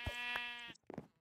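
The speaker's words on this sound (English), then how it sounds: "Sheep, stop eating my grass." A sheep in the Minecraft video game gives one clear, drawn-out bleat, close and loud, followed by a short soft sound, with no talking.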